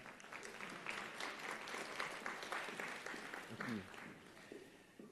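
Applause for Rebecca at a convocation, a sustained patter of hand clapping from a gathered audience, moderate and fairly distant, with a voice speaking over it.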